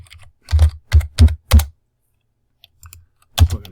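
Keyboard shortcuts tapped on a computer keyboard during 3D modeling of an Eames dining chair: four quick, heavy, close keystrokes in a row, a short pause with faint taps, then one more firm press.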